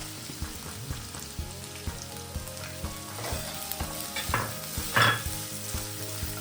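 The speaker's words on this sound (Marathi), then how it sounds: "आता हा कांदा छान ब्राऊन होऊ द्यायचा याला, तोपर्यंत फिरवत राहायचं याला." Finely chopped onion and green chillies fry in oil for paneer tikka masala, a constant close sizzle broken by regular scraping strokes of a spatula stirring the pan, with a louder clatter near the end.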